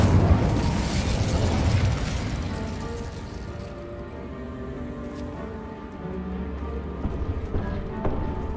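An Incendio fire spell blast in Hogwarts Legacy: a loud, close burst of fiery whooshing noise at the start that fades into a softer crackling tail with game ambience and faint tonal music.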